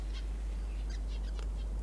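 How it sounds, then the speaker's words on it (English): Little desert finches flit around a waterhole in the Australian outback, giving a few short, nasal honking chirps. The scattered calls come faintly over a steady low rumble of background noise. "those little finches flying around the water, eat them all the time"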